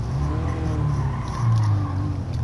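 Simulated Toyota Aqua S hybrid hatchback in a video game, its engine dropping to a low steady drone off throttle, with a faint tonal whine shifting in pitch and no talk.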